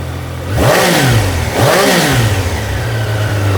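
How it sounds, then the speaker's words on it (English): Close, loud revs from a 2025 Triumph Daytona 660 motorcycle: two quick blips of the throttle rise and fall over a running idle, with no talk. "Quick revving."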